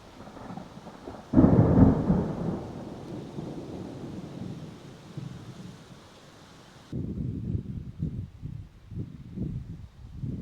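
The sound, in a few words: thunder rumbling during a storm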